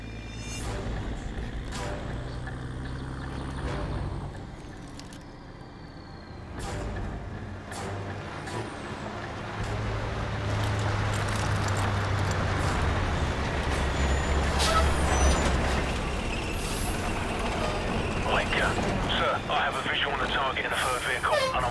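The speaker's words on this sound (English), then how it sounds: "We're tracking an enemy convoy headed your way" An enemy military convoy of trucks and vehicles rumbles past in Call of Duty Modern Warfare, with heavy engines, hissing air brakes and clanking growing louder as it nears, under radio chatter.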